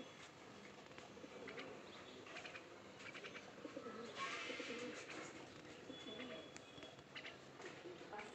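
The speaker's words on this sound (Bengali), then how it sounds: "দুটো কবুতর।" Pigeons cooing faintly in the distance, soft low calls mixed with occasional chirps from other birds over quiet outdoor ambience.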